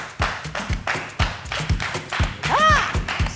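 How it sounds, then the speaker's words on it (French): A studio audience on a TV show set claps steadily for an arriving guest, loud close hand claps with a brief tonal flourish near the end. "On l'applaudit, s'il vous plaît."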